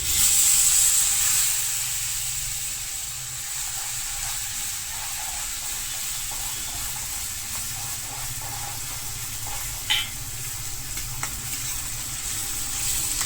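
Onion puree hits hot oil with browning garlic for a kantola curry, setting off a steady close sizzle and hiss that stays even throughout, broken by a brief clatter of stirring near the end.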